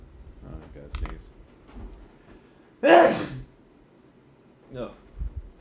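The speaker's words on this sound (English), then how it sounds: "Oh, God, sneeze." A single loud sneeze bursts out mid-conversation, preceded and followed by quiet talking and faint background clicks.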